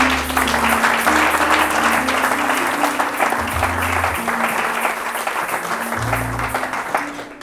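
A church congregation applauds during a sermon, with dense, steady clapping that fills the room and a low sustained hum running underneath.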